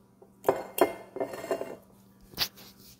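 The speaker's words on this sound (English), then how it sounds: "the background noise is Tosh cooking dinner" Pots, dishes and cutlery clinking as dinner is cooked in the background, several sharp metallic and glassy knocks scattered irregularly with no talk.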